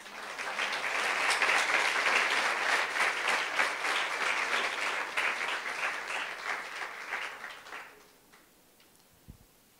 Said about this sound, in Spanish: ¿Cuánto le pueden dar un aplauso fuerte?